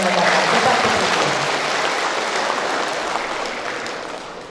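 Sustained audience applause at a public regional election debate, a dense wash of clapping filling the hall from start to finish and slowly fading toward the end.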